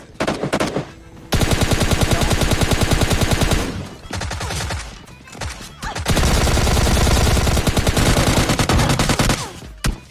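Rapid shotgun and automatic gunfire in the Free Fire mobile battle game, loud and close, coming in dense bursts separated by short pauses, with no talking.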